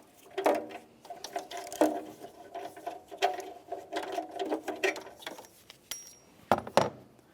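Socket wrench turning counterclockwise to remove the upstream oxygen sensor on a 2012-2018 Nissan Altima, heard as a close series of irregular metallic clicks and ratcheting scrapes, fairly quiet, with short pauses between strokes.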